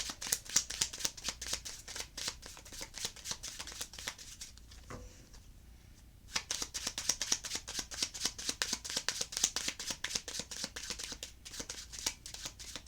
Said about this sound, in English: you can see me shuffling and see the cards on the table